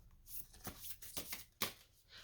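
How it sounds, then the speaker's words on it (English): A deck of cards is shuffled in several quick riffling bursts, close up but quiet, with short pauses between them. "We're gonna shuffle and shuffle until something pop up."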